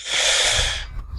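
A character snores in the Amiga video game Bobo, one loud, breathy rasping inhale that fades away, heard on its own.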